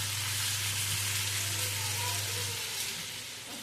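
Tomatoes hit a pan of golden sautéed onions and fry with a steady, loud hiss while being stirred, the sizzle filling the whole clip and easing slightly toward the end.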